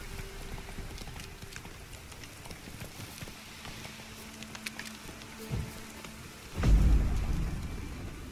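Horse hooves clopping at a steady pace in The Witcher 3 video game, the hoofbeats faint and continuous under rain and a steady background hiss, with a louder rumble near the end.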